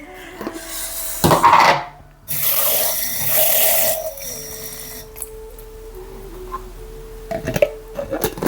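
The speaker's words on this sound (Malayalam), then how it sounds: "ഞാൻ വെള്ളം ഒഴിക്കാൻ പറഞ്ഞു" Water pours in a steady, close stream for a couple of seconds, then quieter trickling and light clinks follow over a soft background hum, with no talking.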